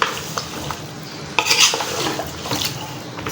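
Spicy masala beef is stirred in a pot, a spoon scraping and clinking against the metal over a steady sizzle, with one louder scrape midway, close and without talk.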